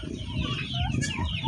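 Farm chickens cluck and squawk close by in a brief, busy burst of overlapping calls over a low rumble of background noise.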